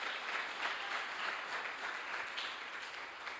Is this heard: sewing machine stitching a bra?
no